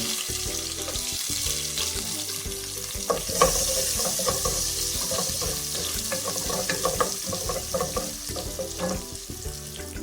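Coconut pieces, crushed ginger and garlic, and chopped tomato frying in hot oil for a prawn roast, a steady crackling sizzle broken by scraping stirs and clinks, with a louder burst of spattering midway.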